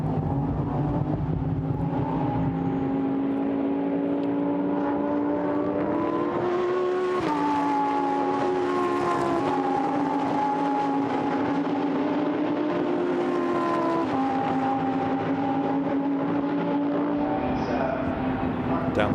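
Lamborghini Super Trofeo race cars lap Silverstone during a 2019 European series race, their engines droning continuously with pitch that climbs, dips and shifts as the cars accelerate and brake, heard from a moderate distance.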